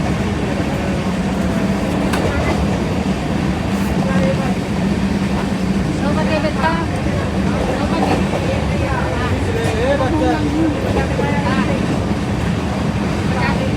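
Steady rumble and rattle inside a moving train, the rolling noise continuous throughout with faint higher squeaks and clatter over it.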